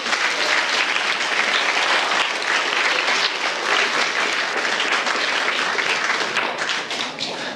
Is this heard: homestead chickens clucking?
no